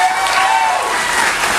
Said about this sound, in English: Round of applause, who thinks there's more cones?